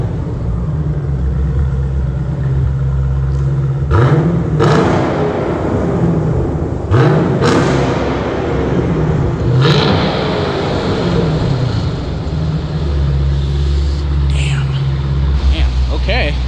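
A Dodge Challenger T/A 392 with a 6.4L engine, idling loudly and then revved repeatedly, with sharp exhaust blips rising and falling over a deep rumble, close by.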